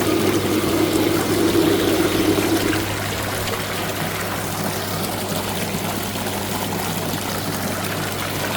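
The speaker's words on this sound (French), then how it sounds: "Si j'active la pompe numéro 1." Jacuzzi pump number one running, with a steady broadband rush of flowing, trickling water and a low constant hum; a brighter gurgle in the first three seconds settles into an even, continuous flow with no talking.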